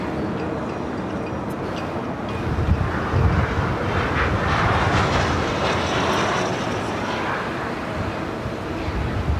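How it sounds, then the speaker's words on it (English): An American Airlines A321 takes off at Los Angeles International Airport, heard as a broad, distant jet roar that swells over a few seconds and holds steady, with no talking. "That was from an American A321 that was taken off."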